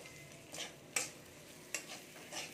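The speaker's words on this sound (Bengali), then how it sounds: "এখানে আমি মাছটা এর সাথে নেড়ে নিয়েছি পেঁয়াজ রসুনের সাথে।" Small shrimp with onion and garlic are stirred in a pan, giving a faint sizzle and a few soft scrapes and clicks of the spoon at a slow, uneven pace.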